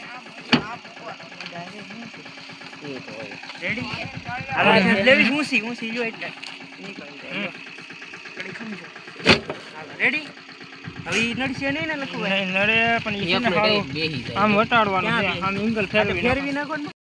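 A saneda farm vehicle's engine chugs and idles while pulling a pump motor and pipe out of a well, with a rough mid-pitched running sound under frequent talking.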